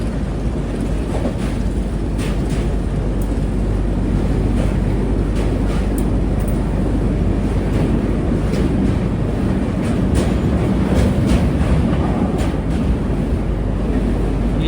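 A train crosses a bridge over the Ganga river at night, heard from inside as a steady, loud rumbling roar with repeated faint rhythmic clicks of wheels over rail joints throughout.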